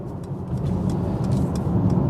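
A 2018 Mercedes-AMG GLC43 crossover on the move, a steady, loud low engine and road drone heard from inside the cabin with no talk.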